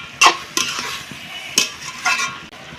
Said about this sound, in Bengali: দিয়ে একটু ভালো করে নাড়াচাড়া করে আমি ঢেকে দিব